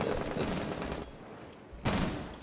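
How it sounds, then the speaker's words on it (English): A gunshot in a tactical shooter match with barricades, a sharp loud crack followed by a quieter stretch and then another burst of gunfire, close and alone without talk. "I got shot through the barricade"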